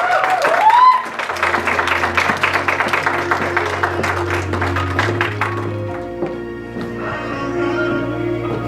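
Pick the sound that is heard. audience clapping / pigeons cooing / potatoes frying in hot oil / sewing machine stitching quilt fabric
audience clapping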